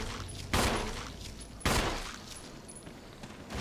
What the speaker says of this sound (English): I'm going to try and back up and just shoot him from here